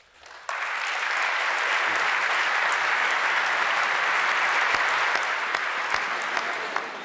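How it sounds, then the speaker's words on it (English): Sustained applause from an audience begins abruptly after a brief quiet lead-in, holding steady and dense for several seconds with scattered sharper claps, at a political speech where the speaker claps himself. "he's clapping himself"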